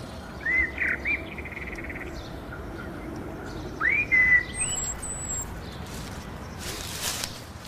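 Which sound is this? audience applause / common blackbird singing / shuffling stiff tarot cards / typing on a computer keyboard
common blackbird singing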